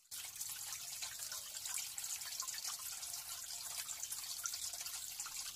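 A water tap left running trickles faintly and continuously in a quiet room, a soft, steady hiss of dribbling water with no voices.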